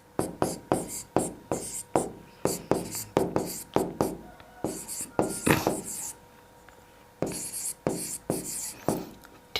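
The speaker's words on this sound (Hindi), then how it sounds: "सबसे पहले देखिए इंटरवल हम लिख लेते हैं फटाक से" Quick, rhythmic pen or chalk strokes tap and scrape on a board while class intervals are written out for a Class 10 statistics table, a steady run of sharp writing sounds with brief pauses.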